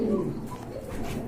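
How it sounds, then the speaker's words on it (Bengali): Pigeons coo close by at a pigeon sale, a steady, moderately loud murmur of overlapping low calls from several birds. "আরেক জোড়া কবুতর দেখতে পাচ্ছেন"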